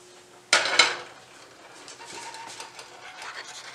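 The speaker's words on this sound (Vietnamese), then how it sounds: "Sau đó mình bắt cái chảo chiên trứng lên." A frying pan for cooking eggs is set down on a kitchen stove with a sharp double metallic clank near the start, followed by quieter scraping and rustling with no speech.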